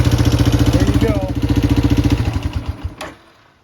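Yamaha Moto 4 350 ATV engine running on a fresh replacement carburetor, a steady close idle with rhythmic pulsing that fades and dies out near the end, with faint voice in the background.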